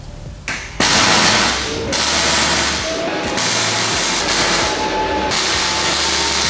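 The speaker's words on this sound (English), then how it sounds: "I think I'm gonna be able to weld over it just fine." Steel fender being welded during a first fabrication project, a loud steady sizzling hiss and crackle running nearly throughout, broken by a few brief pauses between welding passes.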